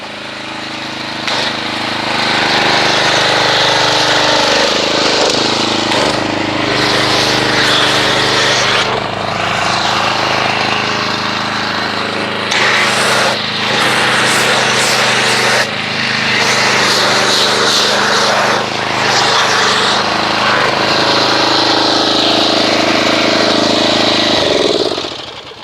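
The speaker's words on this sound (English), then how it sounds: "I think my pump's going bad." A car-wash pump runs steadily and loudly throughout, an engine-like drone while foam is sprayed onto a car.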